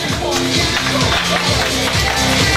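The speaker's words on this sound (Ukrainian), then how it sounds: "Оплески нашому Славі" Audience applause at a dance event, a continuous crowd of clapping hands with cheering and music underneath, loud and close throughout.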